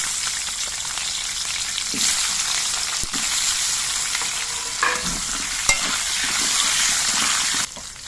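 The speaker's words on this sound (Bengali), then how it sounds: "মাছের মাথাগুলো ভেজে নেওয়ার পর এবার আমি আলুগুলোকেও ভেজে নিচ্ছি।" Potatoes frying in a kadai after fish heads were fried in the same oil, a steady close sizzle with occasional stirring scrapes, no talking.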